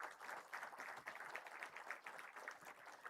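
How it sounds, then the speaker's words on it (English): Workshop audience clapping steadily in a hall, a dense continuous patter of many hands held at even strength for the full span, with no talk over it. "Kindly keep the applause going, ladies and gentlemen."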